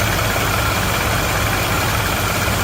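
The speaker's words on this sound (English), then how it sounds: "There's some little bit of rattle in the lifters" A 1956 Chevy engine idles steadily up close with a loud, even rumble; the lifters have a slight rattle.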